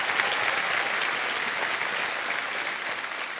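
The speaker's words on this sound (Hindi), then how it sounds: "तालियां बजाएं जोरदार" Loud, steady applause from a television quiz show studio audience, a dense unbroken wash of clapping that stays strong throughout with no talk over it.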